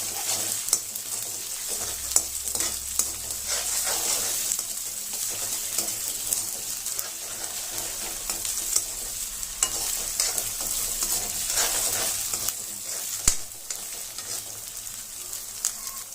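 Ginger-garlic paste fries in a pan of oil for pakodi curry, a steady sizzle with repeated stirring scrapes and occasional utensil knocks, close up and with no speech.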